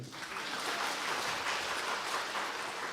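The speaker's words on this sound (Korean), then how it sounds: "저 사람에게 박수 한 번 쳐줘요." A congregation at a lecture in a military church gives a round of applause, a faint, even wash of clapping heard from a distance.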